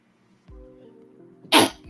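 A person sneezes once, sharp and loud and close to the microphone, following a brief low hum and faint background sound.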